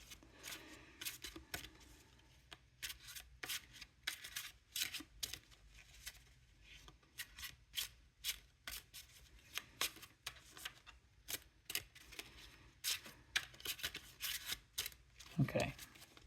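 Tarot cards are shuffled in quick, crisp riffling bursts that repeat through the stretch. The sound is close and fairly quiet, with no talking over it.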